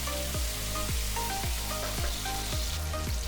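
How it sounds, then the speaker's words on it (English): Cubed potatoes and eggs with masala fry in a pan, a steady close sizzle broken by regular soft scraping stirs about every half second, with no voices. "Fry this for about 3 to 4 minutes."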